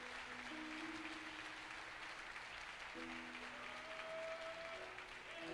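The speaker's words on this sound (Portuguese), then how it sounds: "Vamos aplaudir ao Senhor." Church congregation applauding during a Sunday service, sustained even clapping heard at moderate distance with sustained organ or keyboard tones playing underneath.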